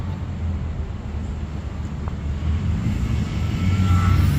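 A Radiolink D460 Turbot RC plane drones steadily through a slow, low flight, its small electric motor giving a continuous buzzing hum at moderate distance that swells slightly toward the end.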